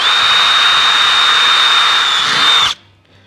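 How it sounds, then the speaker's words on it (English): A power drill with a 1/8 inch bit whines loudly and steadily for nearly three seconds while boring holes for 1932 Ford roof bows, then cuts off abruptly. "Got a 1/8" drill bit on here. I guess all we can do is drill some holes and put them in."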